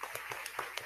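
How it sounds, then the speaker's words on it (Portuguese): A church congregation claps during a worship service, with a short, fairly faint run of claps spread out over under a second and no talk over it. "Vamos dar um aplauso ao Senhor Jesus."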